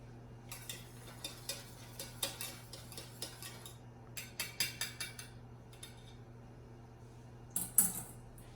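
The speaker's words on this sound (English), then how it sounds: "Mix it together." A whisk or spoon ticks and clinks against a bowl in light, irregular bursts while custard for crème brûlée is stirred together with salt and vanilla extract, quiet and close with pauses between strokes.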